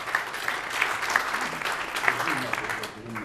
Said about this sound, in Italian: un applauso richiesto anche per loro